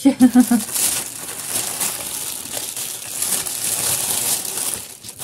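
A craft kit for diamond painting and cross-stitch pulled from a plastic pouch, close crinkling and rustling of plastic after a brief voice at the start, then continuous handling noise.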